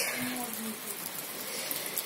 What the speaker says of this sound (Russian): Сейчас идет дождь.